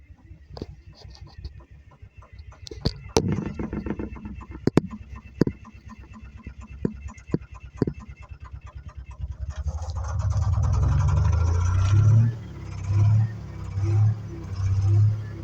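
An old Wabco 555 road grader engine starting cold: scattered clicks and knocks over a quiet background, then a deep, loud diesel rumble catches near the end and surges in rhythmic pulses.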